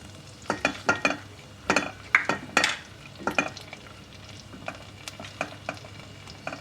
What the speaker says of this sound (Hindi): मशरूम को 1-2 मिनट के लिए फ्राई कर लेंगे